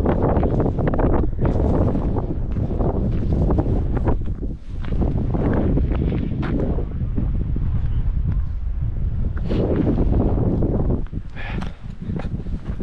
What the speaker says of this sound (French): C'est juste dommage qu'il y ait ce vent.